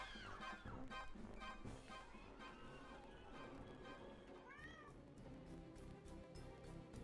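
Cat meows in the Hidden Cats in Spooky Town video game, faint repeated mewing calls over quiet game music and ticking effects.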